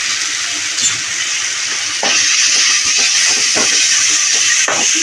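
Onions sautéing with turmeric powder in a pan give a steady, bright sizzling hiss that grows louder partway through, with a few soft stirring knocks.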